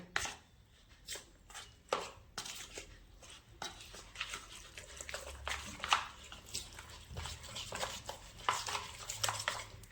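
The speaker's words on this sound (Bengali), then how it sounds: "এটাকে ভালো করে মিক্স করে নেব।" Chilli chicken pieces get mixed by hand with marinade spices, giving wet squelching and slapping sounds in irregular bursts, close and fairly quiet.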